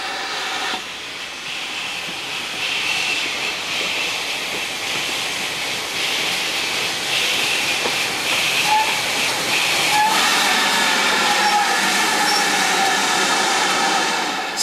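Steam locomotive 7828 Odney Manor on a heritage railway gives off a loud, sustained hiss of steam, with a whistle-like tone riding on top as the train works nearby.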